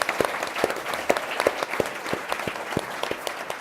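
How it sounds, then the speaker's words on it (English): A panel audience at a cancer research grants event gives sustained, fairly loud applause, with dense overlapping claps across the whole stretch. "Give Andrew a big round of applause"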